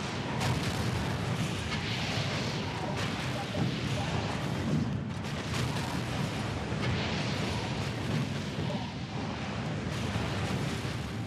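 Missiles firing in Defense Grid 2 as a dense barrage of booming blasts and sharp cracks, layered over a constant roar, with no pauses in the sound.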